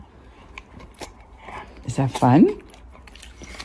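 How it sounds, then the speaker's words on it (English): Dog gnawing on a toy indoors, soft irregular chewing and crunching clicks close by, with someone speaking over the sound. "Can you hold it while you chew it?"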